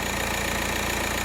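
A Volkswagen Passat with the BHW diesel engine idles in a steady, dense, close rumble with a fixed even tone throughout the short stretch.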